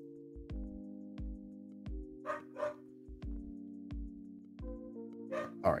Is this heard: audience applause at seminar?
no